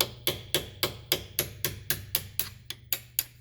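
Light hammer taps on a lower control arm bolt of a 2012 Mazda CX9 during a ball joint repair: about thirteen crisp, evenly spaced metallic knocks, close and alone.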